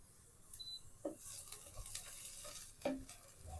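Pav bhaji ingredients frying in a pan for a homemade Tamil-style recipe, a faint steady sizzle with a few brief stirring scrapes and clinks.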